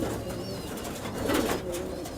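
Fulshira pigeons, a racing breed, coo softly in a loft, a low murmur swelling briefly amid steady background noise.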